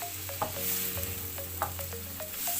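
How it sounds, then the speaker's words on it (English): Onions, garlic and spring onion sautéing together in a pan, a continuous close sizzle broken by a regular series of short spoon scrapes and taps as the mix is stirred. "And then I'm gonna keep stirring that."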